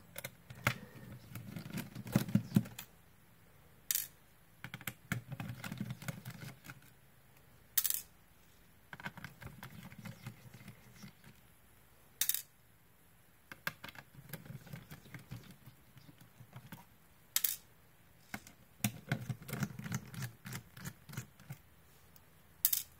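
A Phillips screwdriver backs small screws out of a Sega Nomad handheld console's plastic shell: quiet close-up ticking and scraping in several short bursts, punctuated by sharp clicks and taps as screws come loose.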